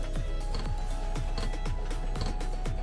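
Steady regular ticking of a Vevor 8kW diesel heater fuel pump, about two clicks per second, over a constant low hum from the running heater.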